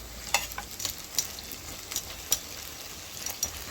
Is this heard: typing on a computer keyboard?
no